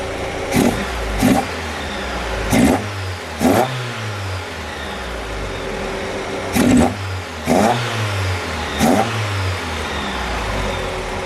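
A Golf Mk1 with a swapped-in 2.0L 8v engine on Dellorto DHLA carburetors revs in repeated sharp blips over a steady idle, about eight throttle bursts in uneven pairs, close and loud with no talk.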